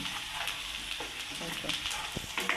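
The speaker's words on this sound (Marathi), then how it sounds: "चांगला कांदा तळून घ्यायचा, फुल गॅस करायचा" Onion fries on a hot tawa over a full gas flame with a close, steady sizzle. Light scraping and stirring sounds come and go over the crackle.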